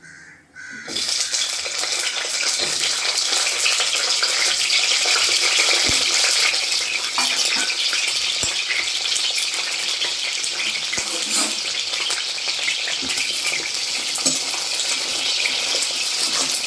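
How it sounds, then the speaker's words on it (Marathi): Green chillies coated in sprinkled flour fry in hot oil in a pan, giving a loud, steady, close sizzle that hisses on without a break from just after the start to the end, with no voices. "आता गरम झाल्यानंतर आपण ह्या मिरच्या आपण फ्राय करून घेणार आहोत"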